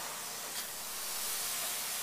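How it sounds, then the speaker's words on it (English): Soy-based spray foam insulation sprays from an applicator gun inside a house, giving a continuous, even, airy hiss at moderate level throughout, with no talking. "today we'll be checking out the application of soy spray foam insulation"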